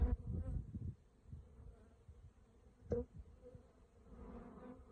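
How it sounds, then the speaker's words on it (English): Honeybees from a small colony buzz in a low, steady drone, louder at the start and again near the end, with a brief sharp knock midway. "Not really enough bees here to worry about them swarming"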